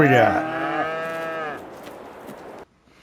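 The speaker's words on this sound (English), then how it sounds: "Check on the cows in here." Cattle mooing inside a large cow barn in the video game Farming Simulator 22: one loud, drawn-out moo close by, followed by quieter barn ambience that fades to near silence.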